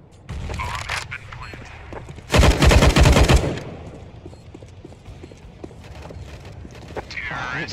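Gunshots in the video game CS:GO during a bomb-plant round: a loud, fast burst of rapid automatic fire lasting about a second, framed by quieter footsteps and game noise, with a voice talking underneath.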